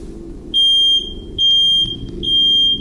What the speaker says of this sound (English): The ghost seems to turn the smoke alarm on upon her mention.